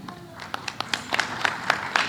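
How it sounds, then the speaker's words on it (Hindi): A theatre audience claps steadily after a play performance, a lively round of applause that fills the room with dense, continuous clapping. "आप लोग जोरदार तालियां बजाइए"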